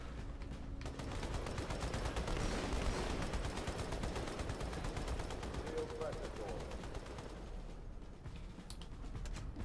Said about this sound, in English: I'm glad they gave us a turret for taking out those, like, two grunts.